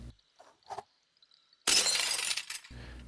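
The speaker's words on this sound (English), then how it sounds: "that glass shattering from the tipped over bucket" Glass shatters from a tipped-over bucket in the video game Stray: after a few faint soft taps, a sudden loud crash of breaking glass rings out for about a second, then cuts to quiet ambience.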